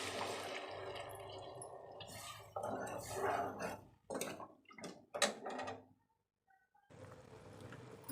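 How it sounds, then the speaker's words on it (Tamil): Water pours into a cooking pot holding turmeric for a village-style pumpkin rice, a close rushing splash that comes in uneven bursts with short drips and clinks, briefly stops, then resumes as a steady flow. "தண்ணியும் இப்போயே சேர்த்திடலாம்."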